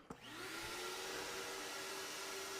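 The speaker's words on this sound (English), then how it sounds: "I do a shop vac right next to" A shop vacuum switches on and runs steadily, a loud continuous whooshing roar with a faint whine. It is used during abalone shell inlay work with a scraper, and no one speaks over it.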